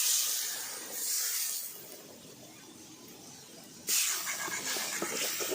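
Okra frying in a pan hisses and sizzles sharply as water is added, with the sizzle fading to a low simmer and then flaring loudly again near the end.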